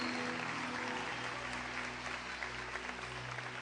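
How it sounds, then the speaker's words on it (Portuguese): A church congregation applauds during a testimony service at a religious retreat, sustained crowd clapping with a low sustained musical tone underneath, fairly faint and continuous for the few seconds. "Quantos podem aplaudir ao Senhor"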